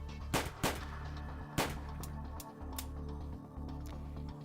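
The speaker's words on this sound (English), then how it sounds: "He aimed at Maverick's head and frantically pulled the trigger twice." A handgun in a visual novel game goes off in a couple of sharp, quick bangs close together, followed by another crack, over a steady low background score.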